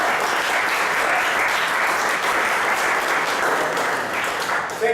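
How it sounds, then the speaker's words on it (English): An audience at an evening live show gives loud, continuous applause, a thick and even roar of many hands clapping that carries on steadily throughout. "So, give these guys a round of applause."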